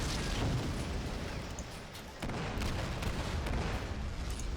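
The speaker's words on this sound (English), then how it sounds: "I'm glad we used that artillery." Artillery fire in the Men of War: Assault Squad 2 video game, a dense, continuous rumble of booming blasts with a brief dip midway before the barrage resumes at full strength.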